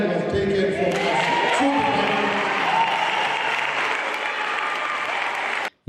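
A large crowd at a rally claps in sustained applause, dense and loud with scattered voices and shouts mixed in, continuing for several seconds before cutting off abruptly.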